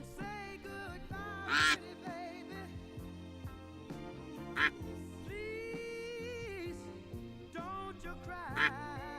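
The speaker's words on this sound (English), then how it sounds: "If this duck doesn't stop quacking." A duck keeps quacking in steady, closely spaced nasal bursts, near and clear, with a few louder, sharper calls punctuating the sequence and no speech over it.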